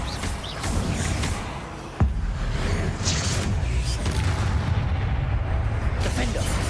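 Bombarda spell blast in the video game Hogwarts Legacy, a single sharp boom about midway through dense, loud game noise and rumbling effects.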